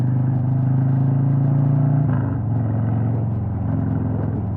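A Harley-Davidson Road King Special motorcycle, a bike of over 700 pounds with big low-end torque, idles with a deep, steady rumble close by. Midway through the engine note drops and then keeps turning over evenly, with no voices.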